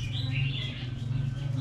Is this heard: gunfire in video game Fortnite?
no